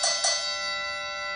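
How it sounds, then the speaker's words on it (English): A Gymboss interval timer set to its boxing bell sound gives two quick ringing dings that sustain with a long, steady metallic tone, fairly faint and heard alone. "I do the boxing bell so it kind of dings 3 times"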